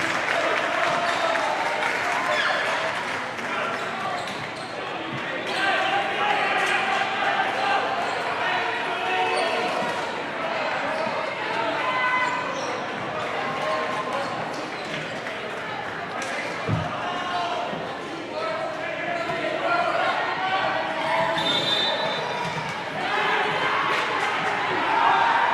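A packed crowd in Hayes Gymnasium at a men's college volleyball match roars and cheers continuously for about 25 seconds, dense and loud, with a sharp thump partway through.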